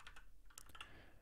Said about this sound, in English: in settings we are typing Emmet